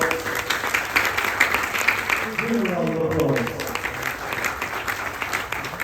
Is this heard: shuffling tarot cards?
no